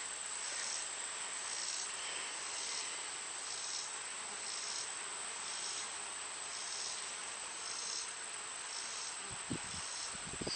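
Honeybee swarm droning steadily around hives in late summer, a dense continuous buzz of many insects close by, with a few faint knocks near the end.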